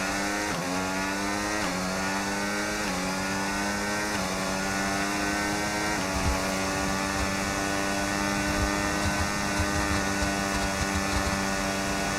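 High-revving F1 race car engine in the F1 25 game, screaming loud and close with repeated upshifts and rising pitch sweeps, then a long sustained wail, with no talk over it.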